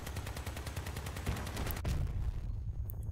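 In the Crossout vehicle combat game, a Reaper minigun spools up and fires. A fast, steady stream of rapid gunfire rattles throughout and ends with a sharp blast partway through.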